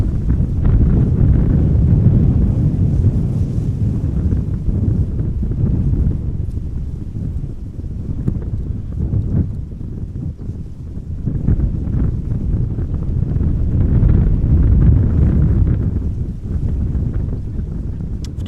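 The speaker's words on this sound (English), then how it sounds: "Current wind is blowing from 210 degrees with 18 knots." Strong wind buffets the microphone at Amsterdam Schiphol Airport, blowing from 210 degrees at 18 knots; a loud, continuous low roar that swells and eases in gusts throughout, with no one speaking.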